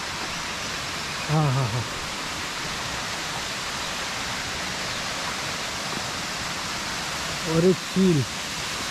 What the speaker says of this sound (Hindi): अभी आप लोग को भी वाटरफॉल का वॉइस आ रहा होगा।